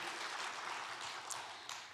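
A church congregation at a Sunday afternoon praise service at Andong Dongbu Church claps in sustained, even applause, a dense patter throughout with no talking.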